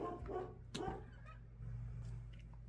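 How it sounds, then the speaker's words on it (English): A pet dog barks indoors in a room where clay dolls are being sculpted, giving two sharp, fairly close barks followed by a low steady hum. "Sorry, my dog's barking."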